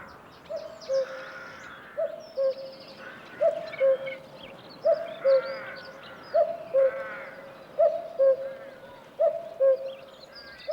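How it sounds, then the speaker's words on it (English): A cuckoo gives its two-note call over and over in a steady rhythm, clear and moderately near. Other birds sing faintly in the background. "No sound is more eagerly awaited than the echoing call of the cuckoo."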